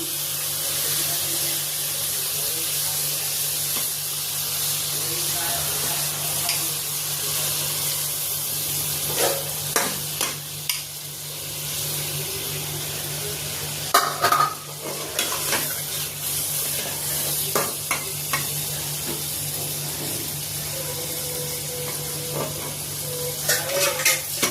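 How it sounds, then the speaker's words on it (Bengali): Koi fish cooking in a pan with mustard sauce, a continuous hiss and sizzle with scattered scraping stirs and clatter, moderately loud and close, with occasional brief talk underneath. "এখন আমি মাছটা বিছিয়ে দিচ্ছি"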